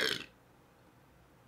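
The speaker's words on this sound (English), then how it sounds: "Ugh, the burp." A single short, loud burp after drinking soda, close to the mic and quickly fading into quiet room tone.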